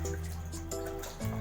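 Water drips and splashes steadily while goat intestines are washed by hand, close and continuous, with no talking.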